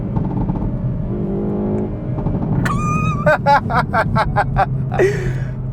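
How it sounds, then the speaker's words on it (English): A Hyundai i30 N (2022, dual-clutch) engine hums, then revs sharply and blips several times in quick succession on a big downshift, loud and close. "Oh, just did a big downshift. Listen to that."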